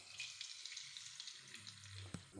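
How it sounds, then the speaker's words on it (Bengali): Sugar dropped into hot oil in a wok, a loud close hissing sizzle running continuously through the short moment with a brief sharper crackle near the end. "তেলের উপরে আমি চিনি দেব"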